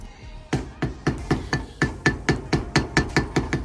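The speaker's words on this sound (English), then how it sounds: "tap these collars tight" Light hammer taps tighten the collars on a Nissan Z31 steering rack being depowered, about a dozen crisp metallic strikes in a steady rhythm, close and clear with no talking.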